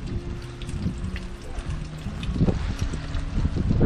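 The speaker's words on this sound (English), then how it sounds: "so now it is really raining now" Heavy rain falls outdoors in the Great Smoky Mountains, a dense continuous hiss mixed with low wind rumble and buffeting on the microphone, growing slightly louder toward the end, with no talk.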